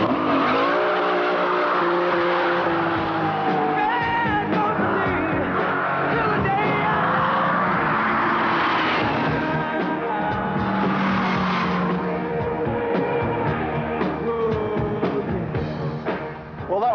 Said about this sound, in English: What I am going to do is demonstrate just how fast the Diablo accelerates.